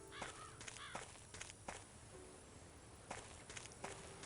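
Crow-like caws from a bird in the Agatha Christie And Then There Were None video game, two harsh calls early on over a quiet outdoor ambience with soft footstep-like taps.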